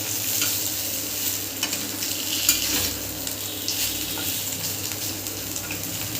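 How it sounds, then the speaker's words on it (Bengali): Palm fritters (taler bora) frying in hot oil give a steady, soft sizzle with occasional light stirring clinks throughout, and no one speaks. "আমি তেলে দিয়ে দিয়েছি এইভাবে ভেজে নেব আমি"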